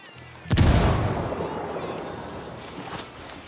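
A frag grenade goes off with a sharp, loud boom, followed by a long rumbling decay that fades over a few seconds.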